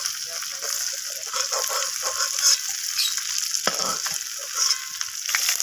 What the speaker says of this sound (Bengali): তো আলু আর কচু দুটোকেই একসাথে ভেজে নেব লাল লাল করে।